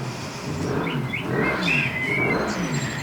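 A motorbike engine revs as it passes by, a rising and falling whine that swells in the middle and fades, fairly loud over a steady rumble, with no voices.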